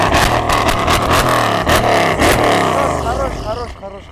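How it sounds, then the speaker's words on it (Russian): A Mercedes CLS 63S AMG revs hard nearby, a loud deep growl with repeated throttle blips and rising and falling pitch that fades slightly at the end, with voices talking over it. "Заведенная машина вот так вот рычит."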